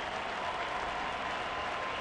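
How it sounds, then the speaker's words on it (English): A baseball crowd roars an ovation for pitcher Felix Hernandez as he leaves the game, a dense, continuous wash of cheering and clapping heard from a distance. "listen to the ovation for Felix Hernandez"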